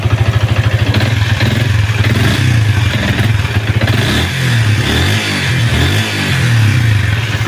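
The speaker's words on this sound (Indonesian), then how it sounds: "Oke, starter langsung jos." A Yamaha All New Vixion motorcycle engine runs rough after starting, a loud, uneven idle with clattering, knocking pulses and brief revs, heard up close without talk.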